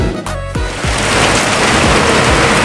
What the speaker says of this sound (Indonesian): Hujan deras banget ini.